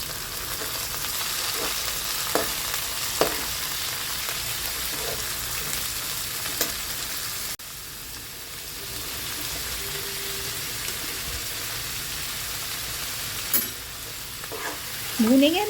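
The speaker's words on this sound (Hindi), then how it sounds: "भूनेंगे हम इसको, तेज़ आंच पे चलाते हुए भून लेंगे हम।" Potatoes and beans stir-fried over high heat in a pan: steady sizzling with repeated scraping and stirring strokes, moderately loud throughout, no talking.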